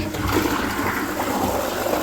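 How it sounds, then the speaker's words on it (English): A toilet flushing in the second bathroom of a brand-new home that had a sewerage flooding problem: a loud, steady rush of water that runs throughout, close by, with no talking. "Give the toilet a flush."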